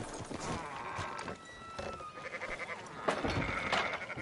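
Sheep bleating among a herd in Red Dead Redemption 2, several overlapping calls in a game soundscape with steady background ambience and a louder bleat near the end.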